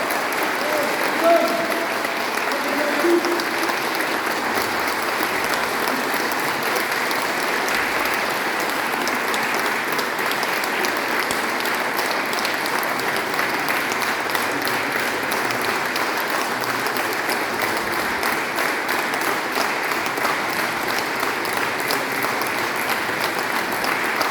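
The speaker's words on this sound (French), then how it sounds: "On les applaudit encore une fois." A crowd in a church applauds steadily for a long stretch after a choir performance, a dense, even patter of many hands that stays at a constant level throughout.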